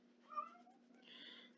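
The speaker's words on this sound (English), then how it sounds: "Sorry about my annoying cat in the background." A house cat meows indoors, one drawn-out call followed by a second higher one, faint and in the background under a steady low hum.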